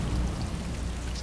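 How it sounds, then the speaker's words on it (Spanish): Light drizzle pattering steadily in the video game Death Stranding, a soft, even hiss of fine raindrops with a low rumble underneath, continuous and moderately close throughout. "Ya está, ya hay llovizna."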